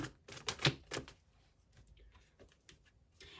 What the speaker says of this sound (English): So I'm going to pull some more oracle cards.